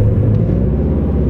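Subaru-style car fitted with an Invidia full exhaust and a Cobb stage 2 tune, driving with a steady, deep engine rumble heard from inside the cabin, loud and continuous without talk.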